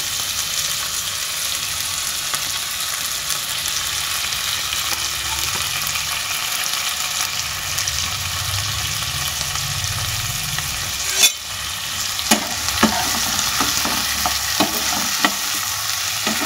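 Julienned ginger, green chili and coriander leaves fry in a pan for a potato and semolina breakfast, giving a steady broadband sizzle throughout, with a few sharp spoon-on-pan stirring clicks near the end.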